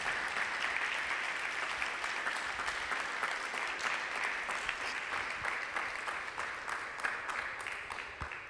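A church congregation claps loudly and continuously in praise of Jesus Christ, a dense crowd applause that holds steady before gradually tapering near the end.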